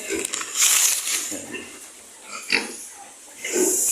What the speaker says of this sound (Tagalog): Lalapitan lang natin yung ating inahin.